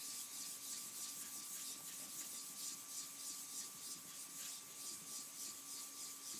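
Straight razor bevel being honed on a stone with Tomonagura slurry, continuous rhythmic wet scraping strokes back and forth, close and quiet, no talking.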